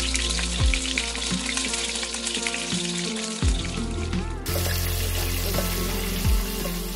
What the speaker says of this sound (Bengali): তাতে ম্যারিনেট করা চিংড়িগুলো দিয়ে দিলাম। এবার চিংড়িগুলোকে 30 থেকে 40